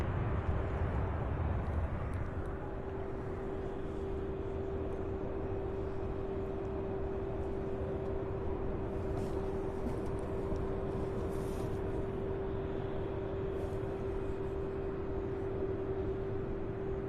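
Steady broadband roar of jet aircraft at Louisville airport, among them a Boeing 747-8, an MD-11 and a 757, rumbling continuously throughout with a sustained low hum and no talk.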